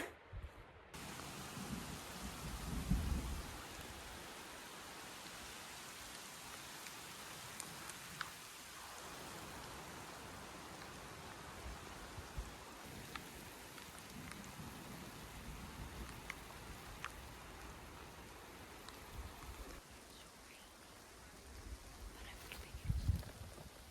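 Rain falls steadily on a solo mountain hike to Herman Gulch and Herman Lake in Colorado, a soft continuous hiss with a few scattered louder knocks and rustles, fairly faint and with no talking.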